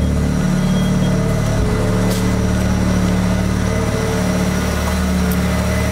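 A Mazda RX-7 FD rotary engine idles steadily and loudly, a constant low rumble with a slightly uneven, buzzy pulse and no talking.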